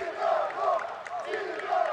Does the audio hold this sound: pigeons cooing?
no